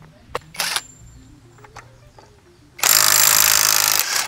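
A powerful impact wrench hammers at the sprocket nut on a ZX4RR motorcycle, a short burst early on and then a loud, sustained rattling run of well over a second near the end, with quieter clicks and handling noises in between.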